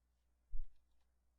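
A single computer mouse click, quiet and close, in otherwise near silence.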